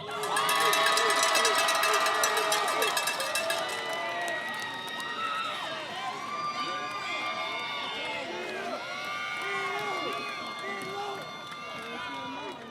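A crowd at a Class of 2023 high school commencement cheers and shouts, with tonal noisemakers and whistles sounding above, loudest at the start and staying steady and busy throughout.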